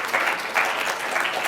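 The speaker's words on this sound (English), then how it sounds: "you owe yourselves a great round of applause for that" Audience applause at a talk on the physician assistant profession, a brief burst of dense, loud clapping from a crowd, rising and falling slightly.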